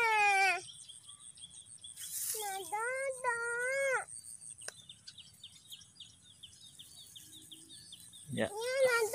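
Rapid high chirps repeat from birds at a nest site being harvested, faint against near voices that talk over the start and end.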